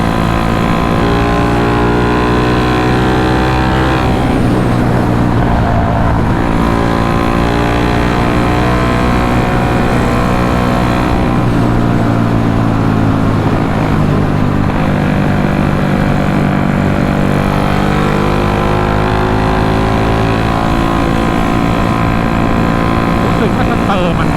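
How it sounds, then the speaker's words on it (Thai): Red Honda Wave motorcycle with a loud aftermarket exhaust being ridden, a steady droning engine note held throughout at close range, rising and easing slightly with the throttle. "เสียงมันดังด้วย ผมไม่ค่อยชอบท่อเสียงดังเท่าไหร่นะแต่แบบ ท่อมันดังอ่ะ"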